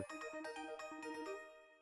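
A phone rings in Pokémon Brilliant Diamond: a short, bright chiptune ringtone of quick repeated electronic beeps, played alone and then cut off.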